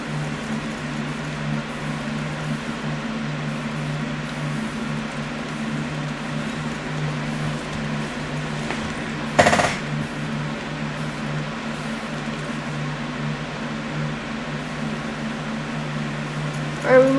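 The vacuum in the video game Luigi's Mansion 3 drones as a steady, whirring suction hum for the whole stretch, with one sharp click midway and another at the end.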